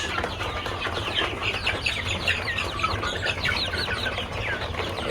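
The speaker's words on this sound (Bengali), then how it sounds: "এখানে টাইগার মুরগি এবং ফার্মি মুরগি মিশুটি ফার্মি যেটাকে বলে রয়েছে" Tiger chickens and farm chickens, about forty-five days old, clucking and chirping together in a busy flock, a steady chorus of overlapping calls close by over a low background hum.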